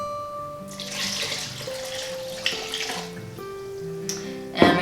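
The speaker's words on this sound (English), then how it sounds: "I'm gonna put in 2 cups of water." Two cups of water poured into a soup pot holding veggie bouillon for plant-based fajita soup, a gurgling, splashing stream with rising tones as the pot fills, close and ending in a louder splash.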